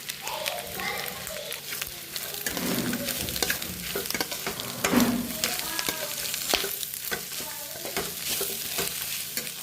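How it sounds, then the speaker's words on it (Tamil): Vegetables sauté in a pan with a little ground pepper, making a steady, close sizzle with frequent spatula scrapes and stirring knocks throughout. "வந்து நல்லா வதங்கட்டும் கொஞ்சமாக மிளகுத்தூள் போட்டுக்கலாம்"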